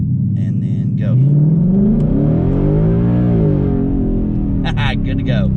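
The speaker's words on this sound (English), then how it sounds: "we're going to do just a quick little hit from a stop, see how the car does" A 2020 Ford Mustang on a borrowed drag wheel and tire setup launches hard from a stop on the street, its engine roaring loud and close as revs climb steadily and then ease off, with brief talk at the start and end.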